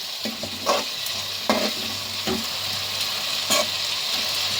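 Chopped vegetables and tomato cook for veg biryani, a spoon stirring them in the pot with a few distinct scrapes and knocks over a continuous soft sizzle.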